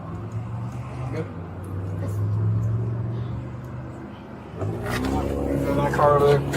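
A car rumbles past nearby during a roadside traffic stop, its engine swelling and fading, while people talk over the traffic noise toward the end.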